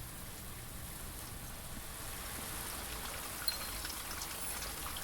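Rain falls steadily in the video game Blue Prince, a soft even hiss of drops held at low volume, with one faint tap near the middle and no talk.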